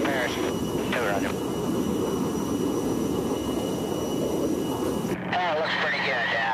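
Fighter jets making passes during the Vietnam War, heard as a loud, continuous engine roar that fills the scene, with radio chatter over it that cuts in near the end.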